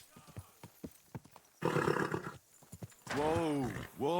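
In the video game Kingdom Come: Deliverance 2, hooves clop softly before a horse lets out two loud, drawn-out neighs, close by, the second a wavering whinny.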